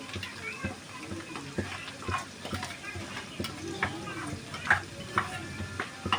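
Spice masala is stirred into cooked onion and ginger in a pan, giving a soft sizzle with repeated scraping strokes and light knocks. A faint voice is audible beneath.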